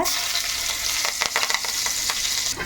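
Green chillies frying in hot oil with loud, busy sizzling and crackling, punctuated by sharper pops and stirring clatter, close and continuous with no speech.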